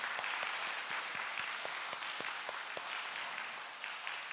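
Congregation at a Friday prayer service giving a round of encouraging applause, a dense, steady clapping with some sharp individual claps standing out, sustained and fairly loud throughout.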